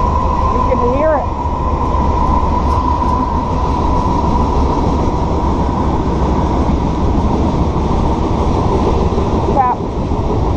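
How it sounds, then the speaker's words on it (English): A train passes close by, a loud continuous rumble and rolling rail noise filling the whole clip, with brief squeals and a voice talking over it. "I told you there's a train. You can hear it."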